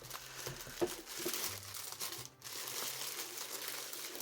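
Packaging crinkles and rustles during an unboxing, a close, fairly quiet run of crackling plastic with small taps and a short pause partway through.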